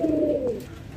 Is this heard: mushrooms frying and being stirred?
no